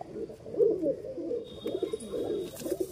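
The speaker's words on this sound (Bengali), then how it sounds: "খুবই ভালো মানের একটি কবুতর" Domestic pigeons coo in soft, throaty, rolling phrases that repeat close by, with faint chirps high above them.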